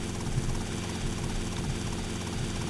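Helicopter rotor and engine drone from the video game GTA Vice City, a steady loud continuous whir with a faint rhythmic blade chop, filling the whole stretch with no break.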